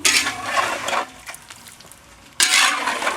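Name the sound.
pork cracklins cooking in oil over low fire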